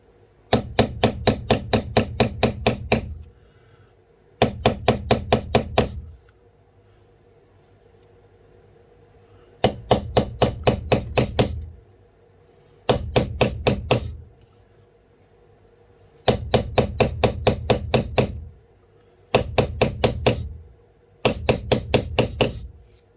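A metal leather-tooling stamp is tapped with a mallet to bevel the edges of a rope pattern in leather, close sharp strikes in quick regular bursts of about eight to ten blows, separated by short pauses, with no talking.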